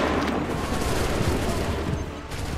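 Massed musket fire from a line of soldiers in Assassin's Creed 3, a dense, continuous crackle of shots sustained loud throughout with battlefield noise and faint voices underneath.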